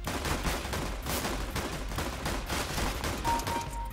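Rapid, dense gunfire from dual pistols in a first-person shooter video game, a continuous rattling volley of closely spaced shots throughout, loud and steady with no speech.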